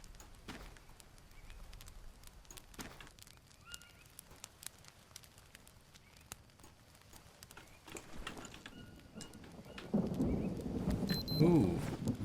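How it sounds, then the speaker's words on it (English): Rain falls in the Green Hell jungle survival game, a soft steady wash that swells louder and denser toward the end, with scattered thumps and clopping sounds mixed in. "Rain is gonna clean us"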